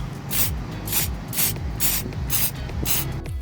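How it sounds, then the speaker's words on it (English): Spray lacquer hisses from an aerosol can onto a copper patina surface in six short, evenly spaced bursts, close and fairly loud, with a faint rattle between sprays. "get the spray lacquer and spray it very gently onto the surface"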